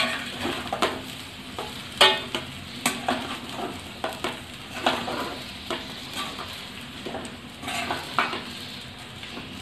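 A spoon stirring vegetable aval upma made with soaked flattened rice in a hot pan, gentle sizzling under repeated scraping strokes and light metallic clinks at an irregular pace.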